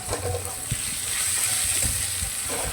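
Torn carrot pieces sizzle and hiss steadily in a frying pan while being stirred, a home Bengali kitchen preparing chicken fry; quiet scraping clicks punctuate the constant frying noise.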